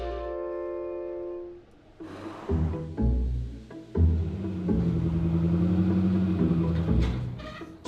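An Opel Manta GT engine idles nearby, then revs and pulls away, holding a loud, steady rumble with brief throttle surges as the car drives off. No one speaks.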